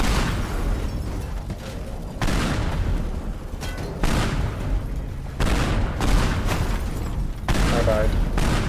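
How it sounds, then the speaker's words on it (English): Airstrike explosions in the video game Teardown: a series of heavy booming blasts arrive one after another at uneven intervals, each with a rumbling tail, with a voice talking over them. "But I think I caught an airstrike on accident."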